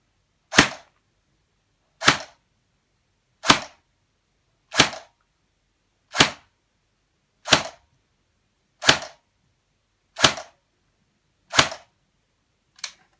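An ARES L1A1 SLR airsoft rifle fires 0.2 gram BBs as ten crisp single shots, evenly spaced about a second and a half apart, each a sharp snap against near silence.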